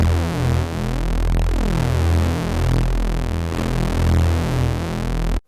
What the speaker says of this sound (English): I added a little bit of saturation,